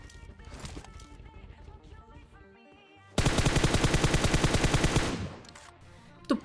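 Rapid automatic gunfire from PUBG Mobile, a squad fight, bursts out loud and dense in a sustained rattling stream for about two seconds, after quieter in-game ambience and faint background sounds, then dies away.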